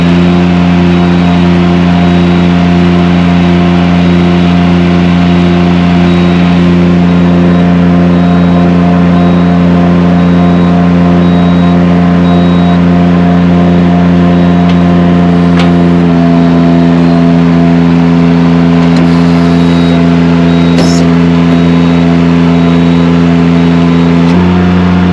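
Palazzani Spimerica TSJ-82 spider lift running steadily during auto leveling, a loud continuous engine drone with a constant hum and faint clicks on top, no talk.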